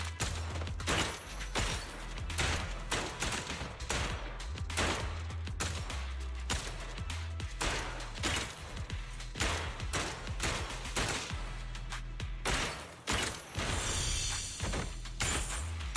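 Rapid gunfire from a shooting section in the video game Zenless Zone Zero, with dense bursts of shots rattling steadily across the whole stretch over a low rumbling bed, loud and close.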